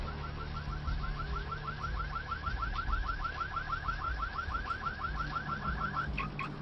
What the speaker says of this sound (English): Turn off your car alarm, boy.